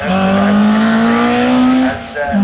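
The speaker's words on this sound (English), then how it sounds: "When it first rolled, and that Opel Manta, he's trying to pull away from Carver, who's in a Vauxhall Chevette" An Opel Manta and a Vauxhall Chevette racing on a rally stage at Cadwell Park; a loud, close engine drone holds high revs, dips briefly as if shifting gear, then climbs again.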